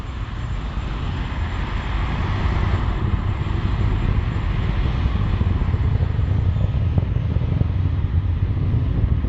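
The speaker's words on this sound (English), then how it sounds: "Falcon 9 is supersonic" A SpaceX Falcon 9 rocket's engines roar during ascent past supersonic speed near max Q on a California rideshare launch, a loud, constant broadband rumble that never lets up.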